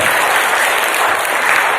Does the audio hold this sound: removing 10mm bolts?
no